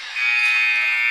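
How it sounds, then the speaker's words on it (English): A loud, steady end-of-game buzzer sounds continuously in a gym at a high school girls' basketball game, a sustained electronic drone filling the whole moment. "there's the buzzer"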